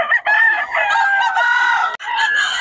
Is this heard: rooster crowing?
yes